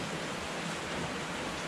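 Steady rain falls continuously at a moderate, even level, a broadband hiss of drops with no distinct pauses and no talking.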